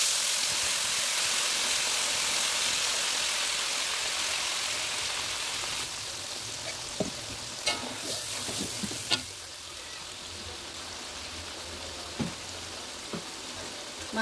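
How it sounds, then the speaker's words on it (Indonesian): A spice paste of blended bird's eye chili, red chili, garlic, tomato and salt sautéing for sambal lado, a steady close sizzle for about six seconds that then drops to a quieter fry with a few sharp pops and clinks. "Tumis bumbunya."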